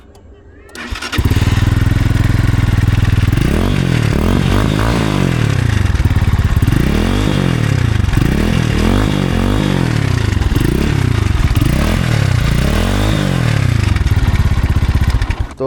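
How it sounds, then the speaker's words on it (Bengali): A GPX Demon motorcycle fitted with a full Akrapovic exhaust, inner honeycomb and outer dB killer in place, starts up and runs close by, its loud engine revved in repeated rising and falling throttle blips before settling back. "যেই সাউন্ডটা শুনতে পেলেন সেটা হচ্ছে ভিতরের হানিকম্ব এবং আউটার ডিবি কিলার লাগানো অবস্থায় সাউন্ড"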